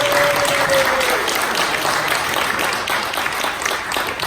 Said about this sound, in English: And applause there for Dave.